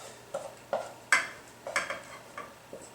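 Several light scraping and tapping clinks of a utensil against a plate as cooked brown rice is spooned out, spaced irregularly, close and moderately soft with no talk.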